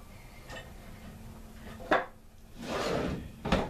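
A workshop drawer is handled in a garage shop: several distinct knocks and a longer sliding scrape of the drawer, close and moderately loud, with no talking.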